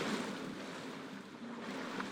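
Ocean waves wash in open water in the survival game Stranded Deep, making a steady surf-like rush mixed with windy noise, continuous and moderately quiet, with no voices.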